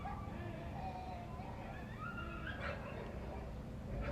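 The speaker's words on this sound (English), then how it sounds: "If you can still hear whimpering, it's two of the pits that live next door, and they're both relatively young" Two young pit bulls next door whimper and yip faintly, thin high whines drifting in and out over a noisy background, distant and quiet.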